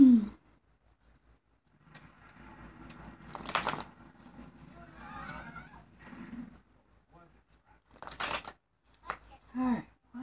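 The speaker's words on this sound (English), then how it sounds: "A few more shuffles." Tarot cards being shuffled by hand in a quiet room, with a few brisk riffling bursts and softer card rustles between them, close and fairly faint.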